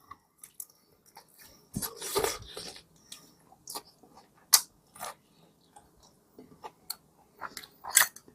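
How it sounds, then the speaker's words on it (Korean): Fried chicken being chewed up close, with soft wet bites, crunches and smacking noises in an irregular rhythm and quiet pauses between them, with no talking. "치킨 뜯고"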